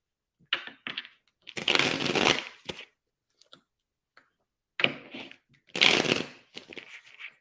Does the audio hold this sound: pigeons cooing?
no